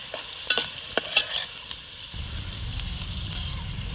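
Washed chicken pieces are stirred in a pan of hot oil, with scraping spoon clatters at first, then a steady, close, loud sizzle of frying.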